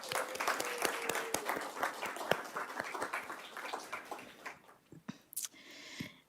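Audience applause at a city's State of the City evening event, a dense burst of many hands clapping that fades out toward the end with a few scattered claps.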